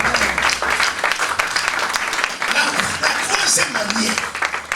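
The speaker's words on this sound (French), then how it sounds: "Je voulais vraiment que vous acclamez le Seigneur pour cette femme." A church congregation applauds and cheers to acclaim the Lord, with clapping swelling under a preacher who keeps talking over the noise.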